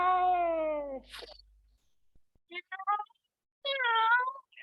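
A voice imitates a cat, giving a long drawn-out meow, then a few shorter chirpy mews and another meow, close and clear against silence.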